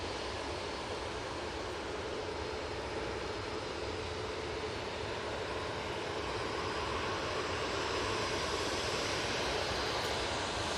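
An Airbus A320neo jet departs Manchester Airport, a steady, fairly faint broadband engine rush that holds evenly throughout, with no voices.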